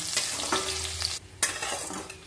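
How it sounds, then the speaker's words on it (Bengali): Chopped onion and green chili frying in mustard oil in a kadai, with a steady sizzle, bursts of spatula scraping and stirring, and a brief quieter gap before the frying picks up again. "দিয়ে দিলাম পেঁয়াজ কুচি, আর দিলাম কাঁচা লঙ্কা। এবার একটু হালকা করে ভেজে নেব।"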